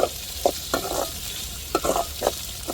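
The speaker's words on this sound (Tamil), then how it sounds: "இப்போ நம்ம தக்காளியை சேர்த்துருவோம். தக்காளி நல்லா வதங்கணும்." Tomatoes sauté in a hot pan for a soybean and beans kuzhambu, with a constant soft sizzle and several sharp scraping stirs of a spoon, close and without talk.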